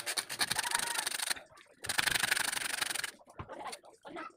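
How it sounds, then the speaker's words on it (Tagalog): A handleless hand saw cuts during a washing machine repair, making two long rasping bursts of quick strokes with a pause between them and shorter scrapes after. "Pagka ganitong gamitin ang lagari, mas maganda yung may handle talaga."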